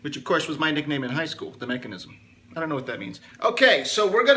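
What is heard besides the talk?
No distinct noise like a dog, phone or traffic.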